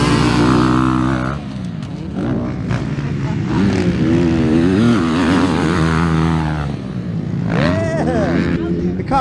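Motocross motorcycles race around a track, their engines revving and whining up and down in pitch as they pass, loud and fairly close, with people talking over the noise.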